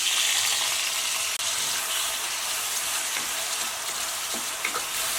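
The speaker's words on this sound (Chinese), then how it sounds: "再倒入番茄，炒至变软出汁" Tomatoes stir-fry in hot oil with scallion and garlic, a dense loud sizzling hiss that fills the whole stretch with faint stirring ticks.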